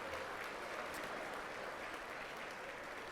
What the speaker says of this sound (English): let's give a warm applause for the Henniger High School Jazz Combo